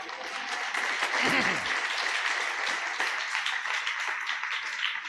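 Church congregation at a new sanctuary's first anniversary clapping hands together in a steady, dense burst that continues evenly, with a voice briefly heard through it.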